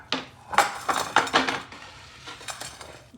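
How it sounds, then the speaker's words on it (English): A dish is pushed across a kitchen counter during meatloaf preparation, giving a short run of close clinks and scraping knocks of ceramic and utensils, loudest in the first second and a half, then fading to lighter taps. "Bring my dish over."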